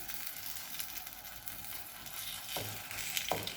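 A chicken cheese paratha fries in oil on a pan, giving a soft steady sizzle with a couple of brief scraping or clinking sounds near the end; no speech.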